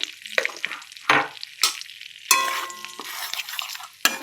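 A small pinch of black cumin seeds tempers in hot oil with bursts of crackling sizzle, interrupted by scraping stirs at a close, fairly loud level.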